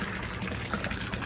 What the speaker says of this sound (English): it's a pretty small pump, but it really creates a whole bunch of water